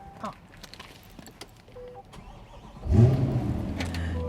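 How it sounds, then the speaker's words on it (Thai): Quiet clicks and rustling give way to a Corvette C8 Stingray Z51 engine cranking and catching, then settling into a steady rumbling idle close by. "เวลาขับขี่เนี่ยมันได้เสียงห้องเครื่องเข้ามานะคะ"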